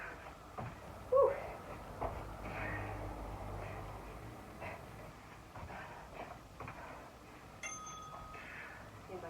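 A bell rings during a Tabata workout interval timer, a short ding amid heavy breathing and movement noise, with a clear tone near the end standing out over the background.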